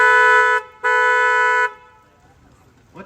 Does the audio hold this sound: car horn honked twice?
yes